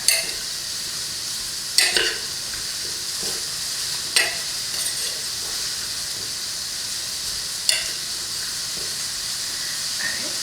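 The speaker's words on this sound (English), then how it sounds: "I'm gonna mix all that together" Ingredients for roast beef are mixed together, with several distinct scraping stirs at irregular intervals over a continuous steamy hiss; no speech.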